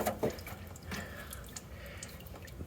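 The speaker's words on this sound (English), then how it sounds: "while the rest of the oil's draining out, I'm going to grab this filter off" Engine oil from a Mitsubishi NL Pajero trickling and dripping into a tin cooking pan, a steady faint liquid patter with small splashes, heard alone.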